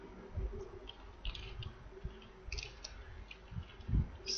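Keys clatter on a computer keyboard as code is typed, quick irregular clicks in short bursts with pauses, moderately close and faint, no voices.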